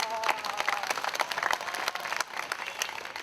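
Warm clapping from an outdoor crowd at a peace rally in Gwangju, a brief dense burst of applause at moderate distance that stays fairly even throughout.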